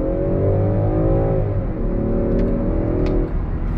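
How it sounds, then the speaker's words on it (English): 2023 Land Rover Defender 130 accelerating on throttle, heard from inside the cabin: a strong engine note climbing steadily in pitch, dipping once at a gear change and then rising again, over a constant low road rumble. "We're gonna pull it out, go on throttle."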